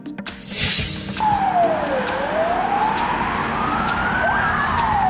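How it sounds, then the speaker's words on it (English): A Russian police car siren wails in rising and falling sweeps over a steady engine rumble, loud and fairly close, with no voices. "Russia police car."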